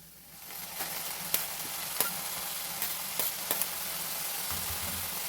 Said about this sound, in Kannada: ಈಗ ಇದಕ್ಕೆ ಕಟ್ ಮಾಡಿರುವಂಥ ಮೆಂತ್ಯ ಸೊಪ್ಪನ್ನು ಆ್ಯಡ್ ಮಾಡ್ಕೊಳ್ಳೋಣ